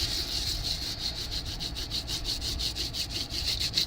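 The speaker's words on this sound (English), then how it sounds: "I'm going to get my scrubber tool. This is a kitchen scrubber. It's silicone." A silicone kitchen scrubber rubs quickly back and forth over a stencil, producing a steady, close, even run of soft scratchy strokes with no talking.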